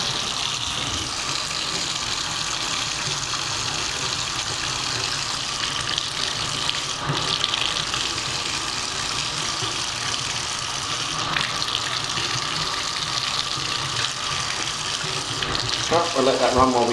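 A household tap runs continuously into a sink during a home inspection, giving a steady rushing splash of water from start to finish with people speaking now and then over the flow.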